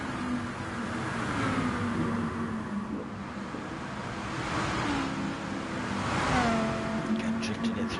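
Lamborghini Gr3 race car in a racing game drifting around Spa-Francorchamps, engine droning and revving with rising and falling pitch, tire scrub underneath, steady and fairly loud.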